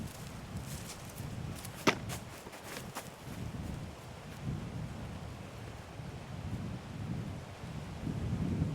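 Gusty outdoor wind buffets the microphone with a steady low rumble that rises and falls over several seconds, with one sharp click near the start.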